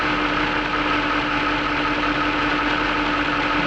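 A Jaguar XK8 engine idles steadily while warming up, a constant low rumble with a faint high hiss, close and unbroken with no talking.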